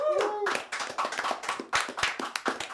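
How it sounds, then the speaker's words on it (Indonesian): Hands clap in loose, uneven bursts as a crowd applauds the PSMS Medan football club, with a voice trailing off at the start and chatter beneath the clapping. "Jadi tepuk tangan yang meriah untuk PSMS Medan."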